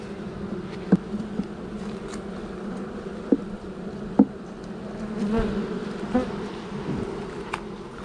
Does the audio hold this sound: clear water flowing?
no